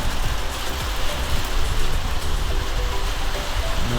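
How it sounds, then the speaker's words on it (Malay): Dense, steady hiss of heavy rain pouring down at a kelong fishing platform in Melaka, Malaysia, loud and close with no voices. "Hujan lebat."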